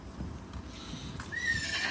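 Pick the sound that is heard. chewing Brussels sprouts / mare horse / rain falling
mare horse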